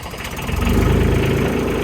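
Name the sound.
engine starting and idling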